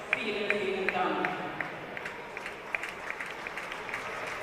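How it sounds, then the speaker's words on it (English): Arena audience applauding during the opening ceremony of a ball hockey world championship, a steady wash of distant clapping with some crowd noise, faint at the start under an announcer's voice. "Large round of applause there for Miss Claudia Nessier."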